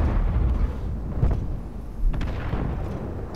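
Booming tank gunfire in World of Tanks clan wars on an Arctic map, with several heavy reports around the one-, two- and two-and-a-half-second marks over a constant low rumble of battle.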